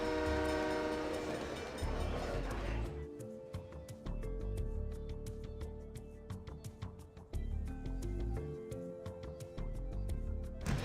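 A horn blares at the start, then a train rumbles past in the SimCity 3000 city builder with rapid rhythmic clacking of wheels over rail joints and sustained tonal horn notes returning midway, loud and steady without talk.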